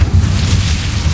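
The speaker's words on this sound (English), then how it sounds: "Incendio." An Incendio fire spell is cast in Hogwarts Legacy, a loud, sustained low whooshing boom of flame that rumbles steadily through its short length with no voices.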